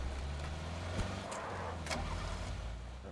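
Car engine in the game PUBG, a steady low drone running throughout the short stretch with no talk over it.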